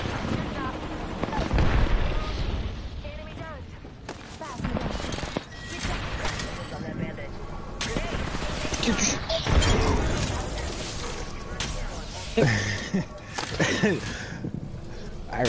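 Grenade blasts and bursts of gunfire in a video game boom and crackle continuously and loud throughout, with players talking over the chaos.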